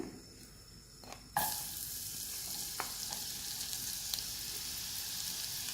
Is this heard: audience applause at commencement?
no